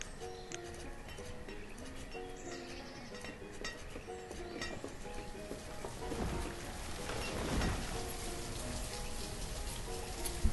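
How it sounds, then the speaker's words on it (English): Steady rainfall in the Banished city-building game pours across the whole stretch, with soft rumbles of thunder swelling near the middle and a faint melodic game score drifting beneath the constant hiss. "Raining again, as always."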